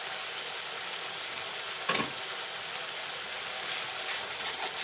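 Masala spices with chili powder and salt fry in a pan, giving a continuous close sizzling hiss with a brief stirring scrape near two seconds, steady and fairly quiet, with no voices.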